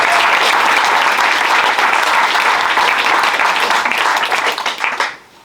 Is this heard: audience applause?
yes